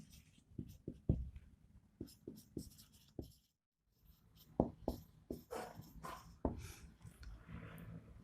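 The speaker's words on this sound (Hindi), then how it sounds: "उसको मैं लिख रहा हूं यहां" Chalk or marker writing a physics question on a board, a quick series of scratchy taps and strokes with a brief pause in the middle, close and fairly quiet with no talking.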